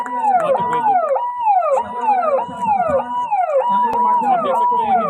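Ambulance siren wailing in repeating rising and falling sweeps at a waterside emergency rescue drill, loud and steady throughout, with dogs seemingly howling along underneath.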